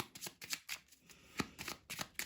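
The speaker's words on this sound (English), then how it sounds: "I'm gonna shuffle and then I'm gonna lay out." A deck of Lenormand fortune-telling cards is shuffled by hand, giving soft rapid riffling bursts and papery slaps in quick uneven rhythm, close but quiet, with no talking.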